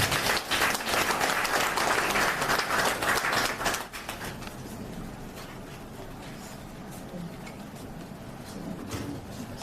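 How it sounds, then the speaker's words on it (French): Applause from the audience at a ceremony celebrating 25 years of Germain Sehoue's struggle: loud, thick clapping for about four seconds, then it drops away to a quieter murmur of room noise. "sous vos acclamations, s'il vous plaît"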